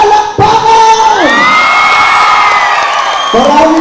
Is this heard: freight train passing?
no